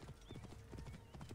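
Hooves of a horse in Assassin's Creed Origins clop in a steady, close, rapid rhythm, with a faint whinny-like tone riding over the footfalls.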